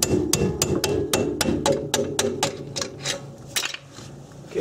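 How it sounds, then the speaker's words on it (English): A rubber mallet strikes a rusted axle fork on a Honda or Acura in about a dozen rapid, evenly spaced knocks. The blows are close and loud, and no one speaks. "Then I'm taking a rubber mallet."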